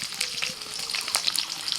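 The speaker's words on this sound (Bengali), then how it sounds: "আদা রসুন কুচি একটু ভাজা হয়ে গেলে দিয়ে দিচ্ছি ক্যাপসিকাম" Chopped ginger, garlic and capsicum fry in oil in a pan, giving a close, steady sizzle with light crackles and pops and no talking.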